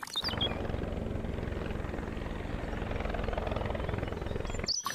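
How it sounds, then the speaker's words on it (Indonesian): A toy helicopter gives a continuous buzzing whir, close and fairly loud, holding steady for several seconds with a few brief chirps at the start and end and no speech. "Wow, ada helikopter."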